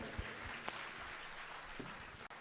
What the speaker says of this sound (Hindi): तालियां थोड़ी जोरदार बजा दिया करो।